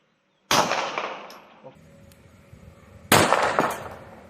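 A handgun fired left-handed at a target at a shooting range: two loud, sharp reports a few seconds apart, each trailing into a ringing decay, with faint handling noise between them.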